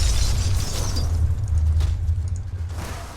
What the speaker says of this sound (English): The centrifuge exploded,